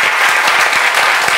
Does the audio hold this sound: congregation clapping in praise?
yes